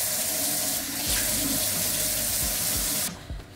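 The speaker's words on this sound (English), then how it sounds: "let me wash my hands" Tap water runs steadily into a sink while hands are washed beneath it, splashing close by, then the flow cuts off abruptly near the end.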